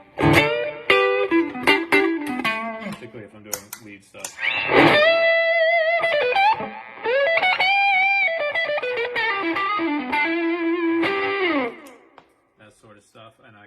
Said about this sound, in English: I'm going into a Strymon El Capistan tape echo, which is great for delay stuff.